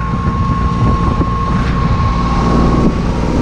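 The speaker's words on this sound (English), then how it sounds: "Oh, the winds are blowing." Strong wind of roughly 30 mph gusts across an open, freezing outdoor spot where a tractor plow is being used, producing a loud, steady roar and rumble against the microphone for the whole stretch, with no voices.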